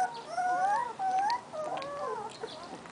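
Several young puppies whimper and whine in high, wavering cries on their first day outside in an outdoor play pen, close and continuous with brief pauses and no talking.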